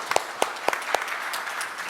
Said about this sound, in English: let's give Mr. Al-Gais a big round of applause